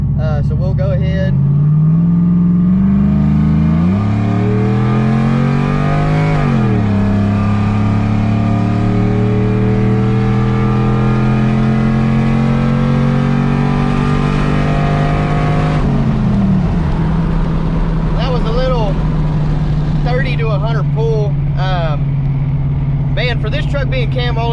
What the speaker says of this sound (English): this truck really performs best from a 30 roll